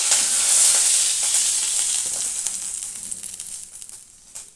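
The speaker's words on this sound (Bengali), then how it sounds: "জিরে আর শুকনো লঙ্কাটা ভেজে নিই" Cumin seeds and dried red chillies sizzle and crackle in hot oil, a steady close bright hiss that slowly quietens, with a few soft stirring scrapes near the end.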